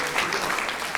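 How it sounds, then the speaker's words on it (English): A Unitarian Universalist congregation applauds guest speaker Reverend Marti Keller, a brief burst of close, lively clapping from many hands with a few voices mixed in. "Round of applause."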